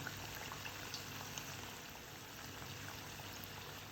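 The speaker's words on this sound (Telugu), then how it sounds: "ఇలా సమోసాలని వేయించుకోవాలి" Samosas deep-frying in a pan of hot oil give a dense, even bubbling hiss that stays steady and fairly faint throughout, with no voices.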